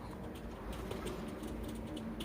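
Homing pigeons in a loft in England give soft, faint cooing against a steady low background hum, with no voices.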